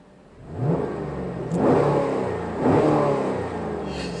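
A Chevrolet Camaro V8 engine blips three times from a low idle, each rev rising sharply and falling back, heard close and loud with no talking.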